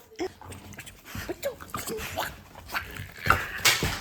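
A playful dog whimpers and nips in short, uneven bursts of yelps and snuffles, close by and fairly loud.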